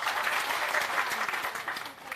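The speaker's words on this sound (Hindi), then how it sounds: "एक बार जोरदार ताली हो जाए अवधेश जी के लिए।" Crowd at a meeting clapping for a speaker, brisk, loud applause from a gathered group that holds steady, then tapers slightly at the end, with faint voices underneath.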